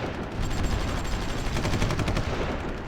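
Artillery firing in the Supreme Ruler Ultimate strategy game, a dense continuous rumble of rapid overlapping blasts, loud and steady throughout.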